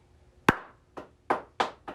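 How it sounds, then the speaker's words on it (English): Five cupped-hand claps, sharp and hollow, ring out alone at an uneven pace with short gaps between them, close and fairly loud. "This is like a bunch of clapping"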